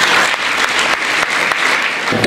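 Audience applause after a child's poem at a children's literature conference in Belgaum: dense, loud clapping that continues without a break and with little other sound.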